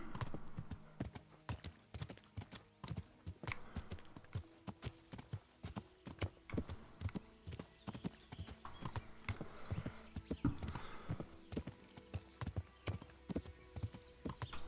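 Steady rhythmic hoofbeats of a horse cantering in the medieval game Kingdom Come Deliverance, clip-clop continuous and fairly close throughout, with an occasional faint snort.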